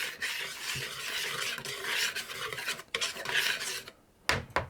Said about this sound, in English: I'm going to give those a mix around just to get those combined with each other.